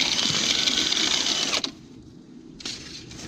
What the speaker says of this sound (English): And I can tell the dryer is starting to get louder.